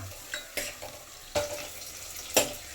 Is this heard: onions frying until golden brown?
yes